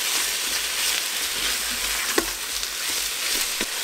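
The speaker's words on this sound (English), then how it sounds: "So we're just going to get that garlic in there. Saute that up." Garlic and beef saute on the sear setting of a Ninja Foodi pressure cooker, giving a steady, loud close sizzle with a few faint utensil clicks from stirring and no talking.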